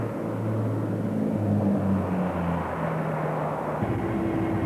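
A light airplane engine drones steadily on a landing approach, with the tone shifting as the throttle is adjusted, loud and continuous with no voices.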